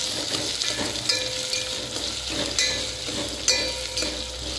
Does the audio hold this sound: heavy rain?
no